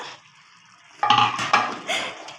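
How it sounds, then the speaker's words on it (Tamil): Chicken dum biryani is stirred in a pressure cooker: after a near-silent second, a metal spoon clanks and scrapes against the pot in a few close, uneven strokes, with no talking. "பிரியாணியை திறந்து கிளறி விட்டுக்கலாம் பிரியாணியை நல்லா"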